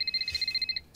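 A telephone rings with a rapid electronic trill, pulsing quickly for about a second before stopping.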